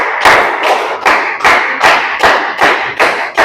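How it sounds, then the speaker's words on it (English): A classroom audience claps for a student in rhythmic unison, about nine loud, evenly spaced beats in a row, each a sharp thudding hit with a short decay. "Please clap for her."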